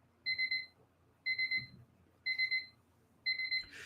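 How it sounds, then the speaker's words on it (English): Four evenly spaced electronic beeping bursts, each a quick triple pulse, sound alone as a timer signals that time has expired during a live giveaway jackpot game. "if you're hearing that beeping sound, don't confuse it with the microwave"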